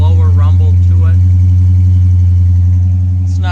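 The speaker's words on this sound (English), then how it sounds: "this has the typical SRT exhaust. It has a nice lower rumble to it." A Dodge Challenger SRT8 idles with a deep, steady exhaust rumble close by and loud, while a person talks briefly over it near the start and again at the end.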